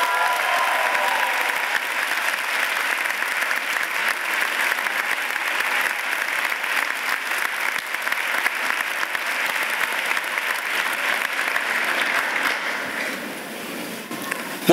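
Sustained applause from a large commencement audience honoring a distinguished alumna at a community college graduation, dense and steady for the whole stretch with a slight dip near the end.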